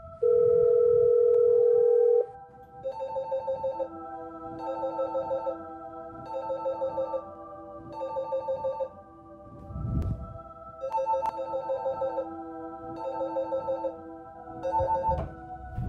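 A telephone rings on a film set: a steady dial tone first, then repeated electronic ring bursts in a regular pattern, close and fairly loud, with no talking.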